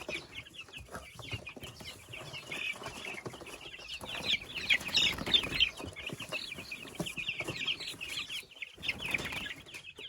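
Chicks peep busily and continuously in a cage, a dense chorus of high, overlapping cheeps at close range with soft rustling.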